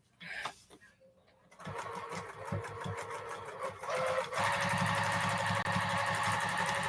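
Domestic sewing machine quilting fabric, its needle running in a steady fast mechanical chatter that starts after a brief pause and speeds up, close and continuous.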